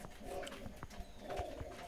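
Domestic pigeons cooing in a kept flock, soft repeated throaty coos in two bursts, close and fairly quiet.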